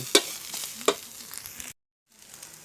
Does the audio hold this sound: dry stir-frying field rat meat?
yes